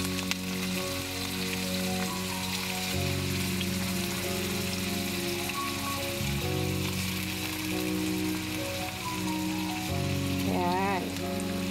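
Chopped manlet goes into a hot pan for adobo and fries with a steady, dense sizzle like rain on a surface, over a constant humming tone in the background.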